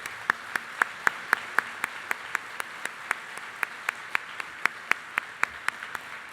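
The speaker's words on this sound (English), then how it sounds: "So let's give them a round of applause." Applause at the PyCon 2016 conference for the Python Software Foundation's new board of directors: sharp, evenly spaced claps ring out in a steady rhythm over a quiet hall murmur.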